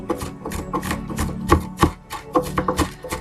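A knife slicing slits into a raw meatloaf on a board, giving a steady series of short, crisp chopping taps about every third of a second, close and moderately loud with no voices.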